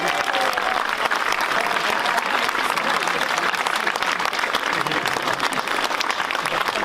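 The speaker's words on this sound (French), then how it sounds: "Sous vos applaudissements," An audience applauds for musician Shakir Khan at the opening night of the Fes Festival of Sufi Culture in Morocco, a broad, sustained wash of clapping from a large crowd, with a voice briefly heard over it.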